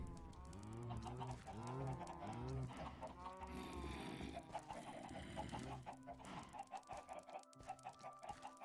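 Chickens in the Minecraft video game cluck in a series of close, repeated calls that come in short bursts, followed by scattered clicks and other game sounds.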